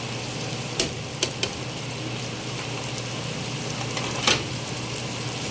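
Star anise, ginger powder, dried lemon, bay leaves, cardamom and pepper fry in a pan for chicken biryani, giving a steady, close sizzle broken by a few sharp clicks of stirring, with no voices.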